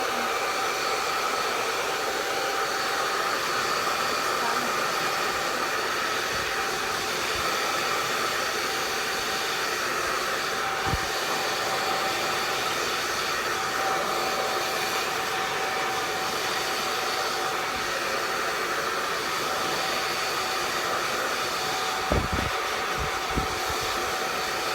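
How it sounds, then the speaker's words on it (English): A handheld blow dryer runs steadily for the whole stretch, aimed at a fluffy fur pom pom being fluffed up, giving a constant loud broadband whoosh with a faint whine and a few small bumps, no talking. "I've got the blow dryer here, so I'll hold it as far away as possible."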